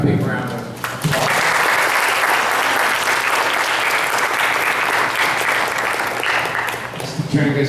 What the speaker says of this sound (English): How about a big round of applause?